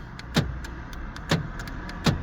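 A Citroen C2 engine idles with a steady low hum just after being started with a new key, broken by three sharp, evenly spaced clicks close by.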